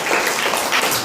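Brief, dense applause from a group of children clapping, an even, close patter filling about a second.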